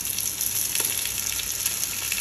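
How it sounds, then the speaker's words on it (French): Beef skin and snails frying in oil in a pan for a tomato sauce, giving a steady close sizzle and crackle throughout with no talking. "je vais rajouter un peu d'huile et frire"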